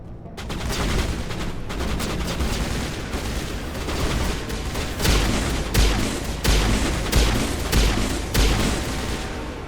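Sustained gunfire in the video game Mass Effect, dense rapid bursts with heavy booming impacts that grow louder in the second half, firing into a wall with no talking.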